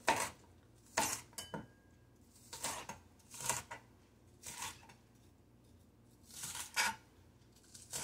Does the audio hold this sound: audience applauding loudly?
no